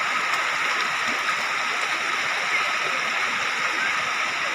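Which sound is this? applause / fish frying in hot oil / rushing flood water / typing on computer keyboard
rushing flood water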